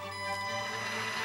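A radio-controlled car's electric motor whines briefly as the tires spin forward, a short, steady, high-pitched tonal hum heard up close.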